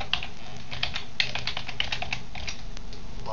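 Computer keyboard typing as a text description is entered, a run of quick, light key clicks at an even pace, fairly close and alone.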